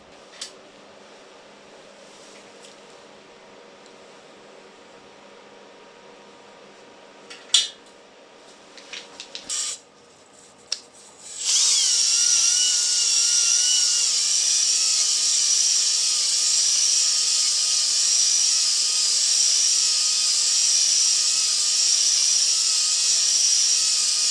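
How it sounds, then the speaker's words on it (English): A hone spins inside a skid steer's engine cylinders. After some quiet clanks and knocks, a loud, steady, high-pitched whirring grinding starts partway through and continues unbroken to the end. "So I'm going to hone all these cylinders down."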